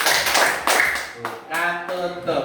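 A primary school class claps hands in short bursts to an open-close clapping routine, with children's voices chanting over the claps.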